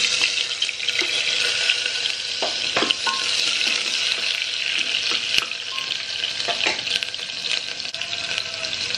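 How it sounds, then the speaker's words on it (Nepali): Onions frying in a pan of oil with fenugreek, coriander and cumin in a home kitchen, a steady loud sizzle with occasional scraping and clinks of a spoon against the pan. "म प्याज हालिदिन्छु"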